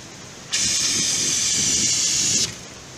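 A steady, forceful hiss of an RV fire extinguisher spraying bursts on, holds for about two seconds, then cuts off abruptly.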